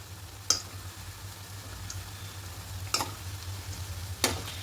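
Cabbage pakoras turned over in hot oil, a low steady sizzle broken by three brief scraping clacks of a utensil against the pan, no talking.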